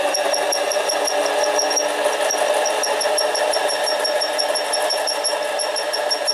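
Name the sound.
Harbor Freight 7x10 mini lathe turning aluminum tube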